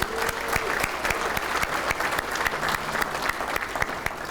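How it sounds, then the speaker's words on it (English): Audience applauding at a formal President's Dinner, a dense, steady wash of many hands clapping close and loud throughout, with no talk over it. "Let's give Shelby a round of applause."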